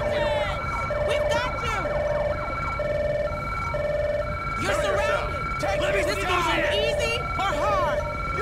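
A police or emergency siren in Grand Theft Auto V wails steadily in the background, with a horn-like wail rising and falling over a low engine rumble, while voices talk over it.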